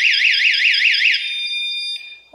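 An ATA 119R remote-controlled door chime sounds its emergency alarm, a loud, rapidly warbling electronic siren that shifts into a steady shrill tone before cutting off.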